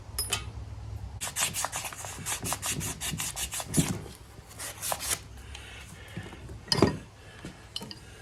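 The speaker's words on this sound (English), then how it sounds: "Now I'll clean this shaft up some." Rubbing and rasping against the shaft of a Cat 60 hydraulic pump during disassembly, a close run of quick repeated scraping strokes with a couple of louder metallic scuffs, no talking.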